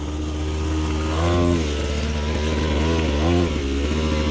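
A cheap Temu dirt bike engine revs loudly up close, its buzzing two-stroke-style drone rising and falling in a few throttle blips over a steady idle.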